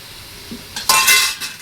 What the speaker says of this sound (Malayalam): ഇനി ഇളക്കി നല്ല വൃത്തി യോജിപ്പിച്ചെടുക്കാം.